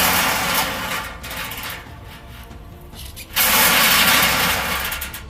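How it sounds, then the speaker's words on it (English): Ribbed plastic vacuum-cleaner hose dragged along a cabinet corner for foley, a loud close rattling scrape that thins to a quieter rub, then bursts back into a dense grinding rasp. "a ribbed plastic hose, the kind you'd normally expect to see at the end of a vacuum cleaner, being pulled along the corner of that cabinet"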